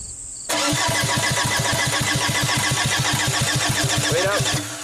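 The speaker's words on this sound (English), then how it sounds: "you want to crank it and we'll see if it shoots out of there" A freshly rebuilt VW TDI diesel engine cranks over with a fast, regular chugging rhythm that starts abruptly and runs steadily for several seconds, close and loud.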